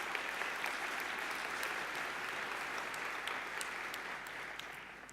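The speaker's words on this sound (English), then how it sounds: "give him a clap." A forum audience applauds after a speech, a sustained even wash of clapping from a large crowd, somewhat distant and quiet, tapering slightly at the end.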